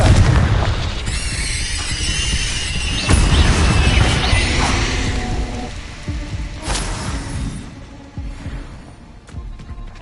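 A Confringo fire spell bursts in Hogwarts Legacy, with loud booming blasts and crashing impacts that hit hard early on, peak again near the middle and fade into rumbling debris with no talk.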